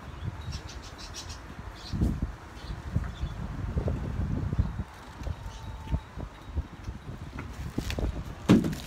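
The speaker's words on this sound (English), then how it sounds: "It's super windy outside." Strong outdoor wind roars and buffets the microphone in steady gusts, with rumbling low noise and a few brief clicks or knocks, and no voices.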